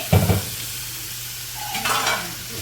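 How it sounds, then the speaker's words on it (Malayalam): Chopped onion and green chilli sautéing in a pan for a pork roast, with a steady sizzle, a brief louder stir near the start and another burst of scraping and frying later. "നമുക്ക് ഇനി സവാളയും പച്ചമുളക് അരിഞ്ഞതും കൂടെ ഇട്ട് അതുകൂടെ നമുക്ക് നന്നായിട്ടൊന്ന് വഴറ്റിയെടുക്കുന്നതിന് മുന്നേ"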